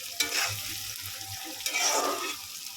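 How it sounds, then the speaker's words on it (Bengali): Chopped onions frying in a pan, a soft close sizzle with scraping stirs and a couple of louder rustling bursts, fairly quiet overall. "পেঁয়াজটা লাল করে ভেজে নিতে হবে বন্ধুরা"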